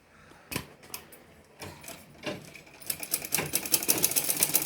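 A sewing machine stitches a double-folded fabric hem, starting with scattered clicks and handling knocks, then settling into a busier, steady mechanical whir and rapid ticking through the second half, close and moderately loud.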